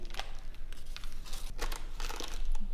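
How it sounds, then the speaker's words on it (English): A mould being peeled away from a dried plaster tile gives soft crinkling and tearing crackles in short bursts, close and fairly quiet, with no talk. "So we just peel this away."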